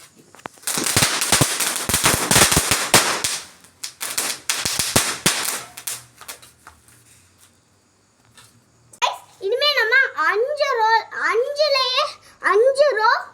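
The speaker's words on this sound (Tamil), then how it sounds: "அஞ்சு ரோ புஷ்பானை வெடிக்க போறோம்" Diwali firecrackers going off in dense rapid crackling bursts, loud and close, with a pause before children talk and shout excitedly afterward.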